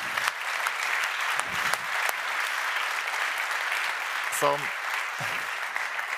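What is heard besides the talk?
conference audience applause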